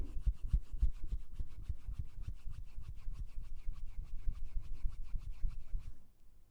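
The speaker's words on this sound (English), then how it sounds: "Now take your hands and rub them together." Two hands rub briskly together in a steady back-and-forth, a dry, close, repetitive friction swish lasting several seconds before stopping abruptly.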